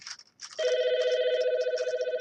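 A household telephone rings with a steady, loud electronic trill that starts after a brief scrape of background noise and carries on alone.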